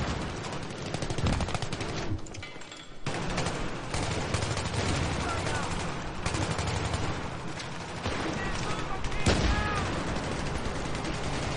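Battlefield 3 game combat with dense continuous gunfire and fusillade bursts including hip-fired weapons and a grenade, loud and sustained across the whole stretch without talk.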